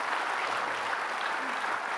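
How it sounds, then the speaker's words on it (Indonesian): A studio audience claps in a dense, even burst of applause that holds steady throughout, with a faint low murmur beneath. "kita kasih tepuk tangan"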